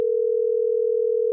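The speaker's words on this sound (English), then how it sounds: "Your phone ringing!" A phone rings as a single steady electronic tone, loud and unbroken for its whole length, with no other sound around it.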